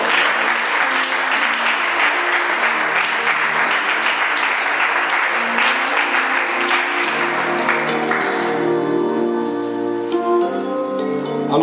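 A church congregation at a French-language service bursts into loud, sustained applause that fills the room, then thins out toward the end as soft sustained musical tones come through.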